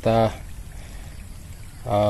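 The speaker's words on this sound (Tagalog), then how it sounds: "dyan po dumadaan yung malakas na agos" Strong rushing water of a flood current flows steadily past a small mud pond between two bursts of a voice, a continuous broadband wash filling the gap.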